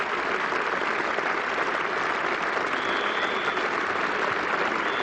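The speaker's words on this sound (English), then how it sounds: "Generous applause from a large, patient Trent Bridge crowd." A large crowd at Trent Bridge applauds at a cricket test match between England and the West Indies, the clapping a steady, even wash that holds without a break throughout.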